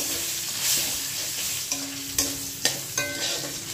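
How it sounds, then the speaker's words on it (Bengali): Thick-cut potato pieces fry in fish-frying oil in a pan with salt and turmeric, giving a soft continuous sizzle broken by several sharp stirring scrapes and clanks toward the end. "নুন আর হলুদ দিয়ে ভালো করে লাল করে ভেজে নেব"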